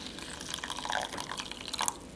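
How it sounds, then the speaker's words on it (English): Water poured from a tap onto oats in a bowl, a soft continuous splashing trickle with a few brighter drips, close and fairly quiet. "So into the oats, I like to put a bit of water."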